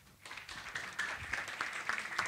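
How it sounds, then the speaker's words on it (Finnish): Audience applause at a Finnish health-services idea workshop, greeting the winning idea. A dense patter of many hands clapping starts after a brief quiet moment and holds steady at moderate volume, heard from within the room. "Eli annetaan aplodit"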